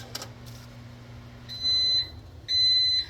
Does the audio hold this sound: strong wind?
no